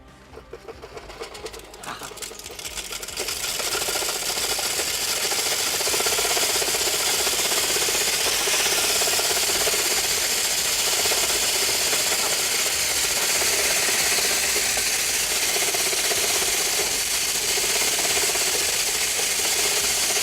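A steady grinding, rasping mechanical noise from a hand-turned hammer mill starts after a couple of seconds and runs loudly and continuously, with no talking.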